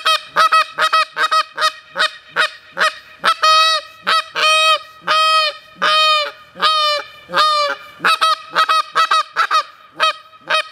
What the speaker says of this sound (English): This is a demonstration of our flute call.